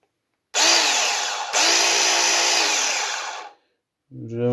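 Cordless mini garden chainsaw running loud and close: a steady high electric-motor whine for about three seconds, a brief dip partway through, then it cuts off and a voice follows.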